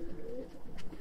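Abdal Arab pigeon from Konya giving a short, soft coo, faint and close against quiet background noise.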